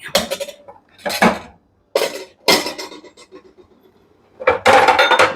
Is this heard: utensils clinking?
yes